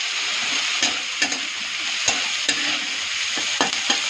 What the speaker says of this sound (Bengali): এটা একটু ভাজা ভাজা করে নিয়ে